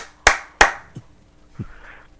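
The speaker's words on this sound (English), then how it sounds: "I gave you the clap for the second part of that." Two sharp hand claps close together, followed by a few faint softer taps.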